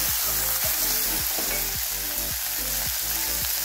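Two medium-sized chopped tomatoes sauté in hot oil in a pan for a ridge gourd bhaji, giving a continuous loud sizzle broken by regular rhythmic scrapes of a spoon stirring them, with no voices.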